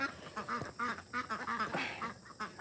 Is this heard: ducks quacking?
yes